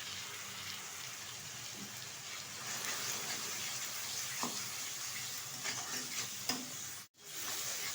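Chicken with turmeric, salt and chili powder sizzling and being stirred in a pan, a steady soft frying hiss with occasional scraping clicks and a brief drop near the end.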